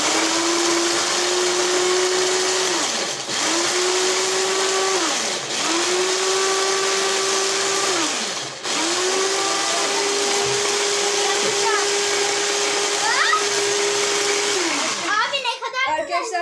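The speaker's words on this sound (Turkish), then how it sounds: "şimdi bu bütün gördüğünüz cips karışımlarını robottan geçiriyoruz" A kitchen food processor grinds a mixture of many different potato chips in loud whirring bursts, pausing briefly between pulses before a final long run, with crunching clatter at the end.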